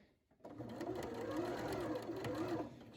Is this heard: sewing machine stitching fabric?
yes